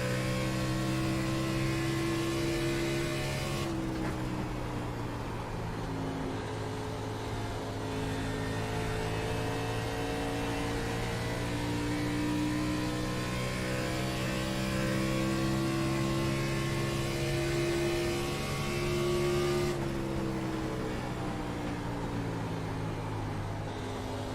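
A NASCAR Xfinity race car in a racing video game drones at steady engine pitch, shifting with shifts and throttle changes, a constant loud hum with no voices.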